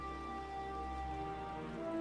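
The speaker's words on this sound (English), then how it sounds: "Maybe the rain will eventually rinse the color from my hair" Steady hiss of rain falling in Final Fantasy XIV: Endwalker, a continuous even wash of drops on surfaces beneath sustained ambient game music, no voices.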